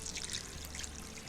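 Water poured into a pot of carrot stew seasoned with salt, pepper and nutmeg, a soft, steady trickling stream close by, continuous and fairly quiet with no talking.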